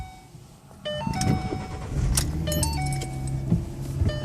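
A 2013 Ford Mustang V6 is started from inside the cabin: keys jangle, chimes sound, and then the engine cranks and catches into a steady, smooth idle.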